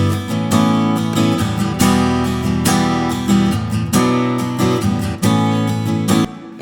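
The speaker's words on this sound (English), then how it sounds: "So what we got here is a wonderful acoustic guitar recording" A phase-aligned recording of an acoustic guitar plays strummed chords and picked notes in a steady rhythm, full and close, with no voices.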